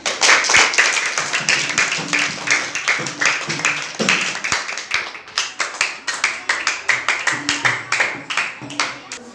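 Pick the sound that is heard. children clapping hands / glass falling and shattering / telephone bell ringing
children clapping hands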